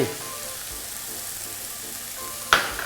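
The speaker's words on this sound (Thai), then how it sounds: "ผสมรวมกันก่อน คนให้น้ำตาลละลาย" Seasoning of sugar, soy sauce and pepper is stirred in with vegetables for a vegetarian Shanghai-style holy basil stir-fry, under a steady close sizzle. A sharp clink of utensil against pan comes near the end.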